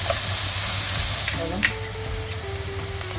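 Onions and leeks sizzle steadily as they soften in a hot pan, a continuous close frying hiss with faint stirring and a brief clink of utensils.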